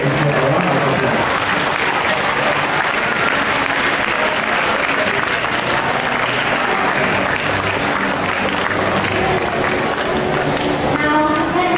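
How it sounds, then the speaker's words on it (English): Dense, continuous audience applause at a student leaders' investiture fills the space evenly for honoring the outgoing peer support leaders executive committee, loud and unbroken throughout with a faint crowd murmur beneath. "Let's give the Outgoing PSL Leaders Exco a round of applause"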